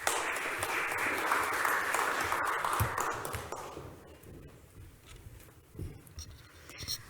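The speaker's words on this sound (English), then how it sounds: "So please, a round of applause for Sara." An audience at a panel event applauds, a dense crackle of clapping that stays strong for several seconds, then thins and fades into scattered claps and quiet room noise.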